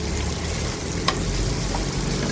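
Garlic and onion fry in hot oil for a pork curry, a steady, dense sizzle that runs throughout with one brief metallic tap near the middle.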